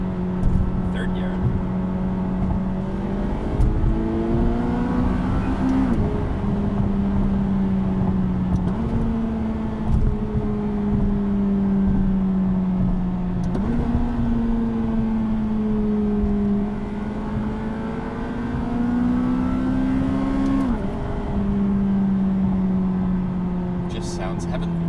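A McLaren engine with Sport exhaust pulls steadily in third gear, its droning note rising through repeated climbs and dropping at each shift. The sound is continuous and close, with a faint hum of talk beneath.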